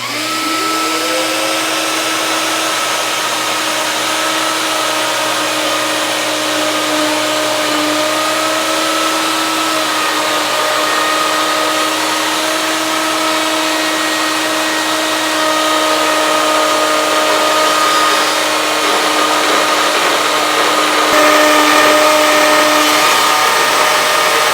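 Loud continuous whine of a power tool cutting a dado across a maple board, a steady high-pitched drone with a slow rise in tone that runs for over twenty seconds with no talk.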